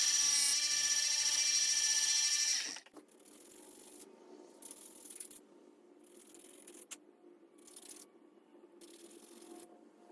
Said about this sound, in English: So I'm going to take it to the belt sander and file it down by hand